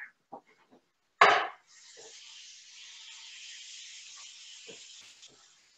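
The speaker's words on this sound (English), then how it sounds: "The wooden slanted thing is what we are going to use to go ahead and just break up the meat in the pan here" Ground meat sizzles in a pan as a wooden slanted spatula breaks it up: one sharp scrape or knock, then a steady, moderate frying hiss with faint occasional taps.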